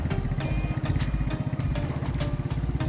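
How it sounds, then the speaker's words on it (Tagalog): Motorcycle engine chugging through knee-deep floodwater, a steady mid-pitched putter with rhythmic pulses and clattering splashes, fairly close and continuous. "Tapang ni ate magmotor."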